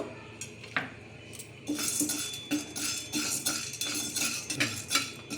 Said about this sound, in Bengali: এবার এখানে আমি কড়াই বসিয়ে দিয়েছি। আমি এবার একটু ছোলার ডালটাকে একটু শুকনো খোলায় আমি নেড়ে নেব।